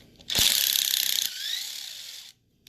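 Fast ratchet clicking from a hand tool driving screws out of the front differential of a TLR 8ight-X RC car, a close, steady burst of about two seconds, alone without talk.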